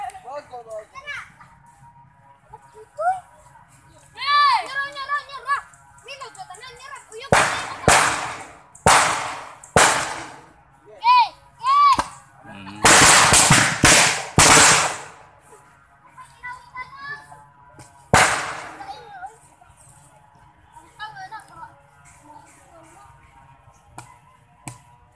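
Outdoors among excited children, homemade cannons or firecrackers go off in a series of loud, sharp bangs, several in quick clusters midway, amid shouting kids' voices.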